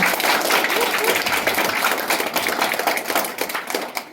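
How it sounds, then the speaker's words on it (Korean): An audience applauds after a library lecture, with dense, sustained clapping from many people filling the room at a steady level throughout. "좋은 강연 진행해주신 유명숙 작가님께 다시 한번 큰 박수 먼저 부탁드리겠습니다."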